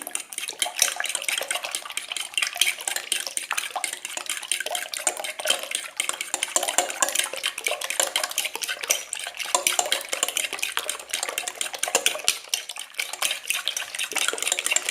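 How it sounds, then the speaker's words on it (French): Eggs are whisked steadily in a bowl for a potato omelette, a continuous close scraping and clinking of utensil against the bowl with no talking. "Là je vais mélanger mes œufs."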